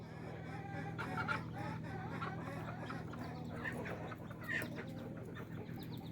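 Ducks inside a garden greenhouse, with faint clucks and quacks scattered through steady background hum, heard from a short distance with no one speaking.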